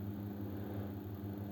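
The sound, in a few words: airplane flying overhead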